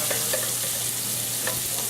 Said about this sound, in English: At this point we can introduce our sage to the pan.